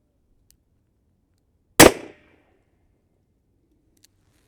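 A single sharp report from a Kimber K6 revolver firing a .38 Special wadcutter over a chronograph at an outdoor range, loud and close with a brief decaying echo, otherwise quiet.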